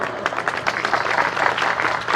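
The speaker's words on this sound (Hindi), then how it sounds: "तालियां कम बज रही हैं।" Audience clapping at a live magic show, a moderate crowd applauding steadily with scattered individual claps, fairly close and continuous, with faint voices underneath.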